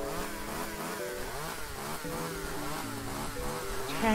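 A motorized chainsaw in the modded Minecraft CrazyCraft game drones steadily, its buzzing engine tone wavering up and down as it runs without pause, with no talk over it.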